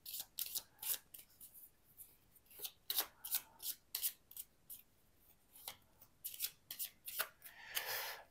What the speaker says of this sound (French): Et maintenant, je vais tirer les